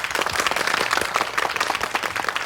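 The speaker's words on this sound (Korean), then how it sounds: "여러분 박수로 따뜻하게 맞으십시오." Studio audience applauding to welcome a guest onto a Korean television talk show, a dense, steady wash of many hands clapping close and loud throughout, with no talking.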